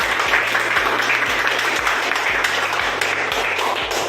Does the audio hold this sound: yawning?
no